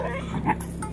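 A dog gives a brief, high whimpering whine with a soft yip-like vocal edge. It is close and a little loud, heard alone over quiet room background during a two-year-old boy's birthday at home.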